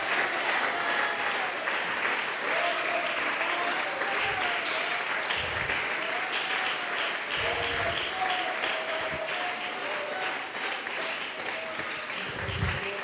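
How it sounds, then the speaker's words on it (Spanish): Church congregation applauding for Jesus Christ during a Spanish-language sermon on sin, a dense, steady wash of clapping throughout, with a voice faintly singing or calling over it. "Oh, aplauda a Jesucristo,"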